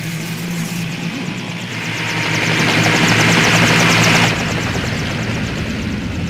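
Helicopters arriving in a Resident Evil video game, a loud steady rotor thump that swells in the middle and stays close, with no voices over it.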